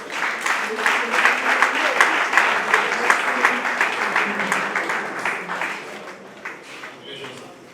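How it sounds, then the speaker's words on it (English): Audience applause at an award presentation, where a plaque is handed to an honoree: dense, steady clapping from a crowd close by, fading slightly toward the end, with some voices mixed in. "Please give him a fantastic round of applause."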